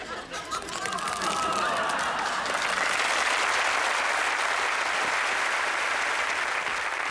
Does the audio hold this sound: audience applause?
yes